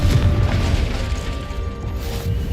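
Confringo, an explosive fire spell in the Hogwarts Legacy video game, going off as a deep booming burst with a crashing rumble that rolls on and fades.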